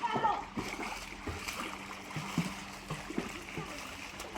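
Water splashes and splatters as a young child named Ayaan swims in a pool, with irregular sloshing bursts close by, while adults talk and cheer in the background.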